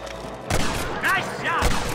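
A gunshot rings out in Red Dead Redemption, a sharp crack at the half-second mark followed by a couple more reports. Shouting voices overlap the shots.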